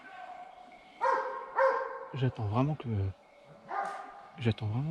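Hunting dogs bark repeatedly at a wild boar during a driven boar hunt, close and loud in bursts of yelps and barks, with someone speaking over and between them.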